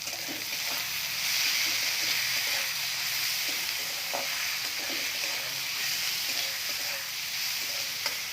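Masala with turmeric and chili sizzles and fries in a pan for sambar, a soft continuous crackle with occasional stirring scrapes, heard close with no talking.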